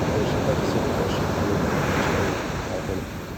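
Pacific Ocean surf rolls onto Seal Beach, California in the early morning hours, a broad, continuous wash of breaking waves mixed with wind buffeting the microphone, steady and loud before easing slightly at the end.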